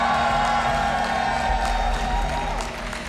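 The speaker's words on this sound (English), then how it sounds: "Austin, who here is cheering for Stephano?" A live crowd at a StarCraft II WCS Austin 2018 esports event cheers for Stephano, a steady roar of applause, whoops and shouts filling the hall continuously, loud and reverberant with a constant low hum underneath.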